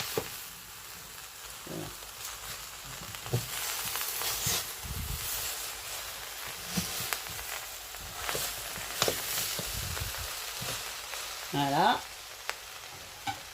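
Sautéed basmati rice with turkey breast and small vegetables sizzles softly in a pan while a utensil scrapes and stirs in repeated strokes, with a brief word spoken over it.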